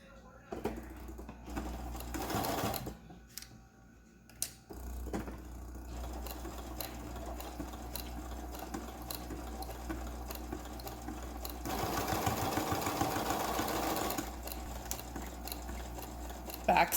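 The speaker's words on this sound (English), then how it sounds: "And we're going to go ahead and sew this. And this is where I like to do the zigzag again." Sewing machine running a zigzag stitch on fabric in bursts of quick mechanical chattering, near and moderately loud, with short pauses and handling noises between runs and someone talking at times.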